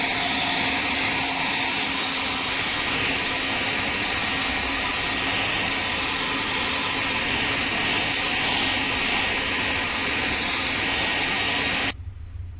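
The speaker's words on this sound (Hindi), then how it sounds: "हेयर ड्रायर से पूरा आगे पीछे सुखा लें, किसी भी तरह का कुछ भी मॉइस्चर नहीं रहे पीसीबी में।" A hair dryer blows air back and forth over a Daikin air conditioner circuit board, a loud, steady, broadband whoosh that runs unbroken for about twelve seconds before cutting off abruptly.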